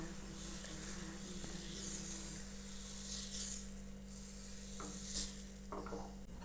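Wheat flour batter sizzling and hissing as it spreads across a hot pan, a soft steady fry with a few scraping stirs near the end and no talking.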